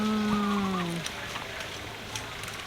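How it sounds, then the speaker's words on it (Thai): A goat on a farm in Chaiyaphum, Thailand, gives one drawn-out, wavering bleat against steady outdoor noise, then goes quiet. "ไปดูแพะ แพะนี่คือแพะที่นี่เขาก็เลี้ยงแพะกันนะเนี่ย"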